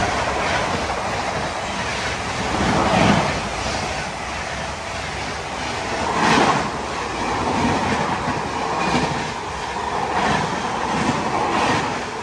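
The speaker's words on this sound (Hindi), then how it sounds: "क्रॉसिंग हो रहा है किसी ट्रेन का।" Another train rushes past, heard from inside a moving coach of the Saurashtra Express: a continuous loud roar with rhythmic clickety-clack of wheels and swelling gusts as the passing carriages go by.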